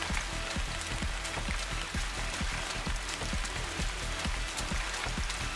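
Steady rain pours down in the video game INSIDE, a dense hiss of drops with soft repeated low thuds, probably footsteps, running through it.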